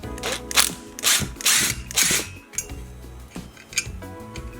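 A ratchet works an alternator mounting screw on a car, quick clicking bursts in short uneven runs, close and clear with brief pauses between strokes.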